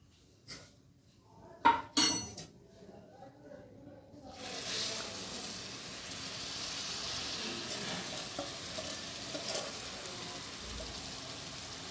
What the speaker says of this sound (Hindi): अब जो हमने शीरा बना के रखा था वो हम इसके अंदर ऐड कर देंगे।